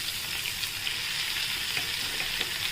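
Garlic frying in hot oil gives a steady, close hiss and crackle as chili goes into the pan, a continuous bright sizzle with faint pops and no voices.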